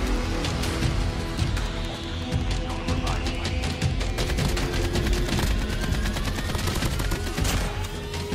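A MAC-10 submachine gun in Call of Duty Mobile fires rapidly in dense, continuous bursts, the sharp cracks packed tightly together and loud for the whole stretch.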